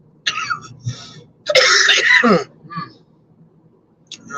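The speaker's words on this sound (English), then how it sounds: "that was quite the coughing fit there." A person coughs and clears their throat in a burst of harsh, rasping hacks, with a longer strained cough in the middle, close and loud.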